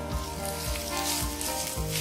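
Finely chopped onion sizzles in a hot pan with green chilies, frying steadily in oil with a dense crackling hiss and faint rhythmic stirring scrapes, close up and without talk.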